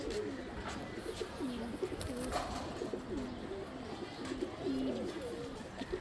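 Female and male Super Pigeon line pigeons coo in repeated soft, rolling phrases, fairly faint against a hissy background, continuing for several seconds.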